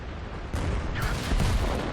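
Artillery booms and heavy gunfire in World of Tanks around a Matilda IV tank, a dense rumbling blast that swells after a short pause and stays loud to the end.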